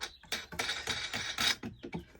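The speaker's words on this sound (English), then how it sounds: "All it is a matter now is put in the washer and the bolt on this side. I'm going to temporarily fasten it down" A bolt with a washer is fastened down on a caravan table in a Bailey Autograph 79, heard as a rapid run of close, quiet ratcheting clicks and small metallic knocks.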